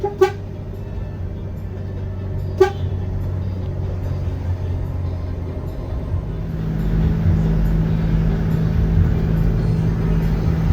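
A vehicle horn on a road trip from Bengkulu to Jakarta gives two short, clear honks near the start over a continuous rumble of engine and road noise.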